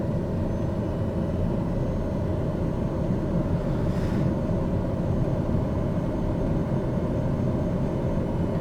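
An airliner in Microsoft Flight Simulator 2020 roars with reverse thrust on landing, a dense, constant low rumble of engine noise that holds steady throughout with no talk.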